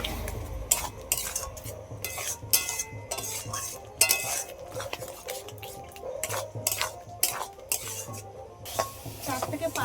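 Tomato pickle being stirred with a metal spatula in a pan, repeated scraping and clinking strokes in an uneven rhythm over a low sizzle, close and fairly loud, no speech.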